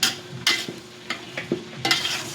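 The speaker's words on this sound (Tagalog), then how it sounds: "Yan, medyo isasangkot siya lang natin medyo ng ano, hanggang sa medyo maluto na yung karne." Soy sauce and calamansi marinated pork being stirred and sautéed in a pan, with scattered sharp scraping clacks of a utensil over a soft, steady sizzle, close and moderately loud, no voices.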